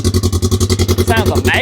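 Exhaust of a 2024 Polaris RZR 1000XP Sport Edition side-by-side, idling with a loud, rapid, even pulsing throb close to the microphone, a short rising rev near the end.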